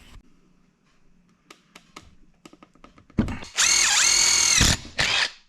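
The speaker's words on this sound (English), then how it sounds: "So I need to drill some holes, so let's get that done." Light clicks and taps, then a power drill whirs loudly in a sustained burst while drilling holes for a ceiling light-fan installation, dips in pitch, stops, and spins briefly again.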